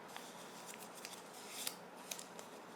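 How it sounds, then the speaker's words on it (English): A sheet of paper is creased along a chord of a circle, giving soft, faint crinkles and light scraping clicks that come in scattered bursts against a quiet background. "Just keep on folding."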